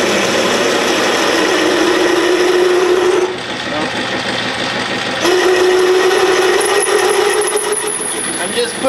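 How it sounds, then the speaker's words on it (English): Boring bar cutting a metal steam engine valve body cylinder head on a lathe, a steady loud machining whine with a sustained tonal hum that drops briefly mid-clip and then resumes. "I'm just putting a boring bar through it just to clean it up because the drill is kind of moving around a little bit."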